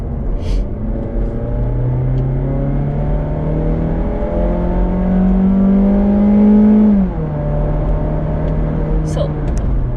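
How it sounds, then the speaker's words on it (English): A 2019 Mazda 3 sedan's naturally aspirated engine drones steadily from the cabin while driving, its pitch climbing through the revs and then dropping at a shift, with a voice heard briefly over the hum. "this is an NA engine, so you can hear the roar of the engine"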